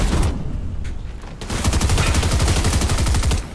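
Rapid automatic gunfire rattles in a Fortnite match: a short opening burst, a brief gap, then a long sustained stream of loud, closely spaced shots that cuts off near the end.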